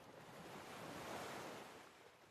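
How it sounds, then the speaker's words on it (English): Hawaiian ocean waves wash onto the shore at night in a steady, broad roar of surf that swells slightly and eases, soft and continuous with no voices. "The waves come in and they go back out."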